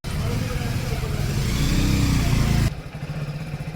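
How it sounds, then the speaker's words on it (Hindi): A motorcycle ridden at City Palace, Udaipur, its engine droning loud and steady close by with wind noise, then cutting off abruptly and leaving a quieter low rumble. "अब यहाँ से हम लेके जाएंगे बाइक।"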